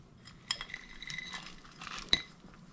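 Bacon going into a pot of bluefish seafood chowder, heard as light metallic clinks and scrapes of utensils against cookware, with a sharper clink near the end and quiet kitchen background otherwise.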